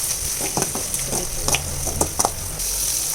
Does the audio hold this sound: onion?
yes